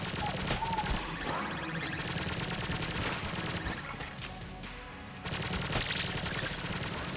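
Rapid, steady video-game gunfire in Enter the Gungeon keeps up a dense patter of shots at a fairly low level, dipping for a moment before picking up again.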